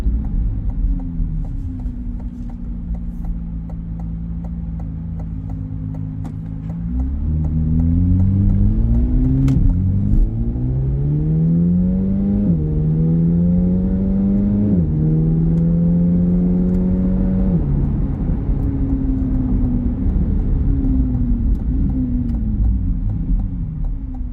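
A 2025 Chevrolet Corvette Z06 accelerates on the road, its engine note climbing through several rising gear pulls with brief drops between shifts, loud and close inside the cabin before settling into a steady cruise hum.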